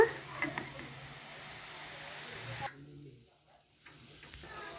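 Vegetables frying in hot oil give a steady, close hiss and sizzle that cuts off abruptly partway through. Someone talks over the frying.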